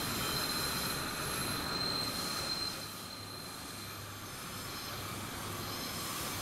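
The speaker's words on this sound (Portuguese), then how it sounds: "Trem chinês" A Chinese train rolls past in the Roblox game Terminal Railways, its wheels squealing with a steady high-pitched screech over a constant rumbling rail roar that eases slightly midway.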